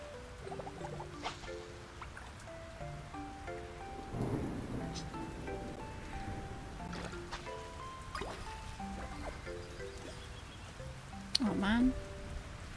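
Steady rain falls in the farming game Fields of Mistria, with occasional low thunder rumbles, soft drips and plucky game music over the top.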